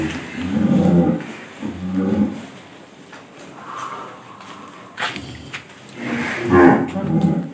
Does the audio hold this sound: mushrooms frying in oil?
no